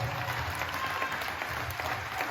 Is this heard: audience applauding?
yes